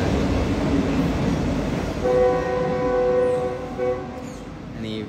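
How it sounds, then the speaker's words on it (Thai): A train passes near a home, a broad rumbling roar throughout with a sustained multi-tone horn blast sounding for about two seconds midway, loud and close. "ผมมีรถไฟด้วยนะอัน"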